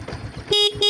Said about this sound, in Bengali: এটা হচ্ছে হর্ন